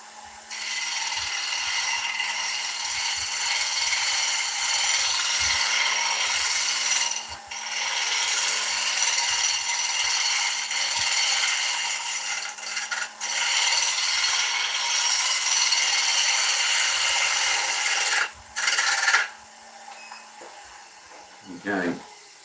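An oak bowl spins on a woodturning lathe while a gouge makes steady rubbing, hissing cuts at high speed, a continuous close rasp with brief pauses near the end.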